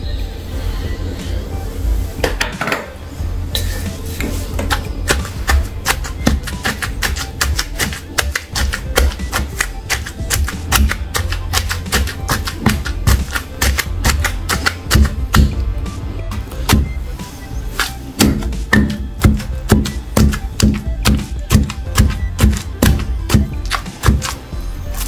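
Soaked tamarind pickle with fenugreek powder being pounded by hand, a loud, continuous run of rapid, close thuds and knocks that keeps a steady driving rhythm throughout.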